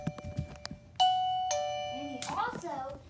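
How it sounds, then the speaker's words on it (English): A toy doorbell rings out with two bright, sustained ding-dong chimes that slowly fade, close and loud, with someone talking briefly before and after. "And I have a doorbell."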